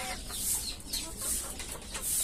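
Desi chickens sick with Ranikhet disease cluck in a series of close, fairly loud calls, alone without speech.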